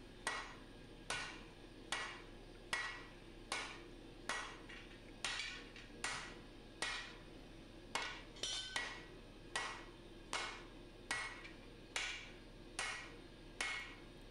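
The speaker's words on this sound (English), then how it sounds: "it was a good way for me to try out the new hammer and really put it through its paces" A new power hammer pounds large steel stock while forging a Musso Bowie knife, delivering a steady series of sharp, ringing metallic blows about once a second over a low mechanical hum, close and loud.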